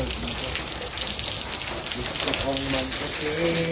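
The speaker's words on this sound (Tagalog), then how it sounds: "malakas po ang ulan" Steady, dense rain hiss fills the whole clip, with a voice speaking over it partway through.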